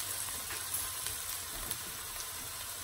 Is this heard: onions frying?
yes